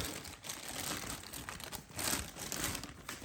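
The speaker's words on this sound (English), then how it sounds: "We're going to break them out of there and start getting into it." Plastic clamshell packaging is pulled and crinkled to free a Hiya Exquisite Basic Series Godzilla 2021 figure, giving close, continuous crackling with sharper crinkles now and then; no one talks.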